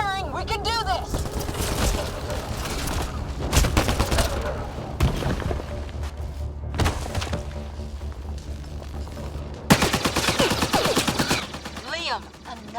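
Rapid gunfire from a sci-fi shooter battle in Mass Effect Andromeda, with loud bursts and sustained volleys throughout and a heavy barrage near the end, while character voices shout over the fighting.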